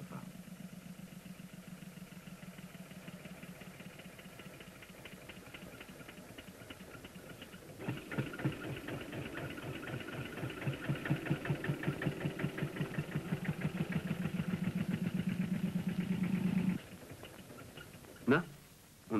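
A diesel engine runs steadily near the microphone, its rhythmic chugging swelling louder in the middle before dropping back, with a narrator talking over it throughout.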